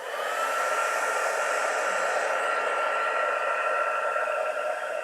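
A hair dryer blows steadily to dry ink on paper while designer paper is being made. It gives a loud, close, continuous whir that holds even for the whole stretch, with no voices.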